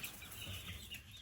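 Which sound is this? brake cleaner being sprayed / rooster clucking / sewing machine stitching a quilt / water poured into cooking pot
rooster clucking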